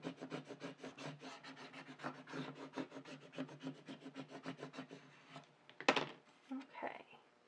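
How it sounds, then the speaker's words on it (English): A scraper tool rubs rapidly back and forth over vinyl laid on a surface, a quick rhythmic scratchy rasp that is close and fairly quiet. A brief clatter comes near the end as the tool is set down. "just kind of rub it with my fingers first, and then with my scraper tool"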